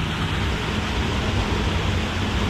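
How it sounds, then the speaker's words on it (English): A small waterfall in a forest creek gives a steady, even rush of falling water, close and constant with no voices. "Little waterfall."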